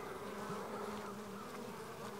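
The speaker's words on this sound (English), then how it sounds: "Turn this around and get some more bees. They do not like this." Honey bees buzz steadily and close during a hive mite count, a dense continuous insect drone with a sustained hum that holds without pause for the whole stretch.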